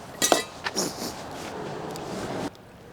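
Dishes being washed inside a camper van on the road in Tasmania: a few close clinks of cutlery and crockery early on, then a soft running-water hiss that cuts off abruptly near the end.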